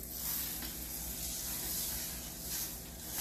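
Crêpe batter cooking in butter in a pan gives off a soft, steady sizzle, a quiet continuous hiss with no other sounds over it.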